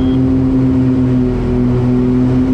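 The engines of an Aerostar 700 aircraft hum steadily at power, a constant loud drone with a strong low tone that does not change much over the short stretch.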